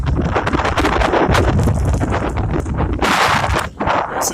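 Blustery wind buffets the microphone on a wet mountain trail in the Smokies, with loud, gusting rumbles that surge and ease in waves.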